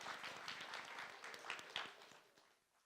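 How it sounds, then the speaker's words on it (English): Audience applause at a community diversity event, a dense wash of clapping from a gathered crowd that holds steady and then fades out, faint and distant. "One more round of applause."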